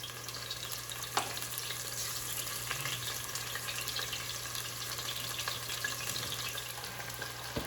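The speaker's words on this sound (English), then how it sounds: "Can you hear that sizzle?" Chicken pieces sizzle in hot oil in a frying pan, a steady close crackle with occasional pops and a faint low hum underneath.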